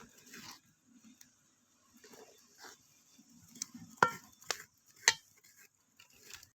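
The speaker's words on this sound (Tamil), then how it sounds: "வெல்லம் போட்டு நல்லா கிளறி விட்டுக்கலாம்." Quiet scraping and stirring of jaggery in a pan while making milk kozhukattai, soft intermittent strokes with a few sharper utensil clinks against the metal toward the end.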